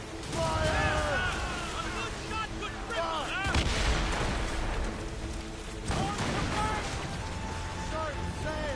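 Ship cannons fire in a naval battle in Assassin's Creed Rogue, dense booming broadsides and crashing impacts layered over music and shouted voices, loud and continuous throughout.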